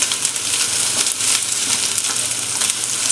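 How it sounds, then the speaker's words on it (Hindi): Capsicum and carrots stir-fried for a simple macaroni dish, a loud, close, continuous sizzle of vegetables in hot oil with the brushing and tossing of stirring, no voices over it. "शिमला मिर्च ऐड कर रही हूँ, हम अच्छे से मिक्स कर लेंगे।"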